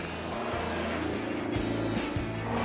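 A 1928 Alvis FWD with a 4-cylinder engine drives steadily, its motor droning loud and continuous with slight shifts in pitch as it runs along the road.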